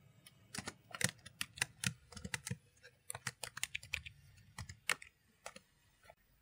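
Rapid, uneven clicking of keys on a computer keyboard while a file name is typed, close and fairly quiet, with short pauses between bursts.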